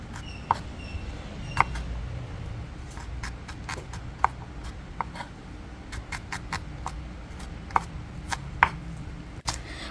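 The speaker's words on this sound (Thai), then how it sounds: "แอดมินใช้หอมแดงอยู่ที่ 4-5 หัว จากนั้นก็ นำมาซอยค่ะ" A knife thinly slices four or five red shallots for a Thai liver dish, giving crisp, uneven taps against a cutting board, close and clear over a faint background hum.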